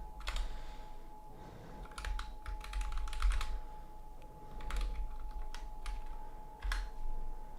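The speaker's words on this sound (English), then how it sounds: "I have a fucking Lord of the Rings keyboard" Steady typing on a Lord of the Rings computer keyboard, with irregular bursts of close, crisp key clicks over a low hum and no talking.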